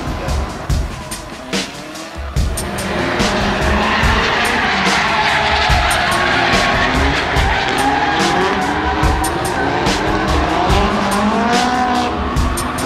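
Drift car tires squeal continuously through a slide, a loud sustained screech over revving engine noise after a brief throttle burst at the start, with crowd or voices faintly underneath.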